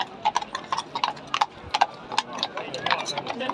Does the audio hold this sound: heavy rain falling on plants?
no